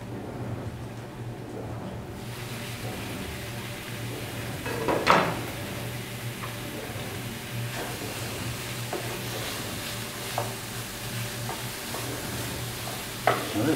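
Chopped pork browning in a pan with onions gives a steady, moderate sizzle with occasional louder spatters and utensil clicks, continuous throughout with no talking.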